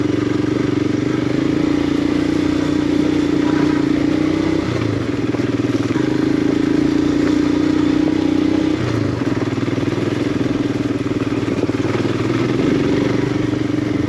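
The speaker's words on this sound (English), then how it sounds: "You can ride most of this in second, and it just chugs." A Royal Enfield Himalayan 411cc motorcycle chugging uphill in second gear on a mountain road: a loud, steady, low engine thrum throughout, overlaid by continuous wind rush, with slight shifts in pitch as the throttle eases and picks up.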